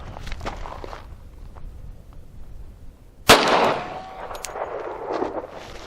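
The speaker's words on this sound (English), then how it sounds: "Gonna fire one round with my elbow locked, and let's see if we break my elbow." A single loud shot from a 1911 .45 pistol firing Federal 230-grain full metal jacket ammunition cracks out sharply mid-clip after quiet handling noises, followed by a brief ringing echo and shuffling.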